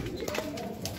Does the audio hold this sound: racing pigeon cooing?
yes